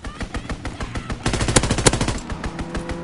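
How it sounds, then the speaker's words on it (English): Rapid machine-gun strafing fire from a fighter plane in a PS4 war game, a dense rattling burst that swells to its loudest around the middle with sharp cracks, set against ongoing battle noise with no talk. "Fighter pilot inbound. Strafing the target."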